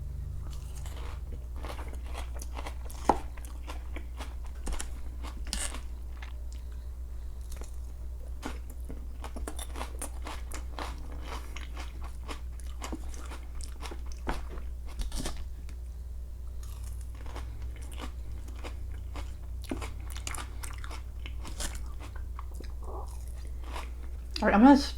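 Close crunchy bites and wet chewing of salad with ranch dressing at a mukbang meal, steady mouth sounds over a low background hum, with a louder crunch near the end.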